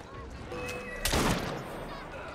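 A single gunshot blast in Assassin's Creed Syndicate, a loud broadband burst with a short decaying tail that stands out against quieter game sounds and background noise.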